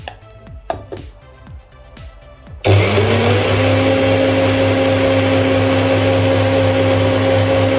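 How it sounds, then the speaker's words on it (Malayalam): A mixer blends garlic with refined oil for mayonnaise, starting with several short chopping pulses, then whirring into a steady, loud, continuous grind that holds to the end. "ഇനി ഇതിലേക്ക് കുറച്ച് റിഫൈൻഡ് ഓയിൽ ചേർത്ത് കൊടുത്ത് ഒന്ന് അടിച്ചെടുക്കാം."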